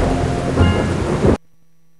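Thunder rumbles over heavy rain in a ruined Civil War era village in the Cluefinders game, a loud dense roar that cuts off abruptly to near silence after about a second and a half.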